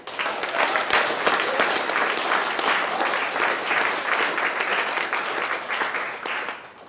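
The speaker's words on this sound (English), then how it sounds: "give a round of applause for you guys and gals" Applause for game developers at a creator event, an audience clapping steadily and fairly close, sustained for several seconds before tapering slightly at the end.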